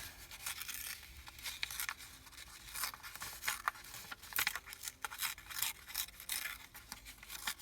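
Paper being torn for a handmade page ensemble, with repeated ripping and rubbing bursts at close range, fairly quiet, and no voices.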